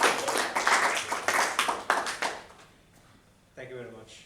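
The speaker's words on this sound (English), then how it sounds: "Let's give him a big round of applause." Applause from a small audience at a Toastmasters meeting, a short burst of scattered clapping that fades out, followed by a voice speaking.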